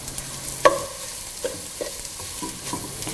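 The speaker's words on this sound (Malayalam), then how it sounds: "മുളക് പൊടി, ചിക്കൻ മസാലപ്പൊടി എന്നിവയിട്ട് വഴറ്റുക" Chili powder and chicken masala sauté in a pan for Kerala chicken mappas, with a steady soft sizzle broken by a few sharp spatula scrapes and clinks against the pan.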